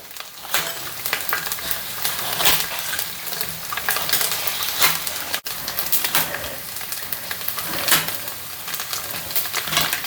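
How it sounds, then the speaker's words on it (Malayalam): Small coconut pieces roasting in a pan for payasam, loud continuous sizzling and crackling with repeated scraping stirs and a brief clatter, close and alone. "ഇങ്ങനെ ചെറിയ പീസാക്കിയിട്ട് നമുക്കൊന്ന് കറക്കിയെടുക്കാം"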